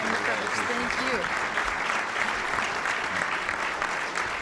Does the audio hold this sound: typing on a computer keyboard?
no